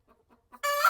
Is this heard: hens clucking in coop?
yes